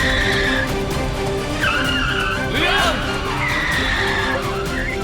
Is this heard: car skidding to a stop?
yes